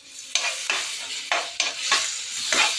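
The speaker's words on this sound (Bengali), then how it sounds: "পেঁয়াজটা একটু ভাজা হলে এই যে আদা গ্রেট করে রেখেছি দিয়ে দিলাম, আর দেবো 1 চামচ রসুন বাটা" Onion, grated ginger and garlic paste fry in a pan for a chilli chop, making a steady sizzle broken by about six sharp scraping stirs at regular intervals.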